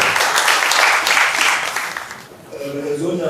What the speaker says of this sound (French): Est-ce qu'on peut encore applaudir ces